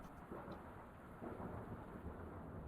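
Thunder effect from the Fantasy Grounds tabletop game software, a low continuous rumble under steady rain, holding at an even moderate level with slight swells and no voices.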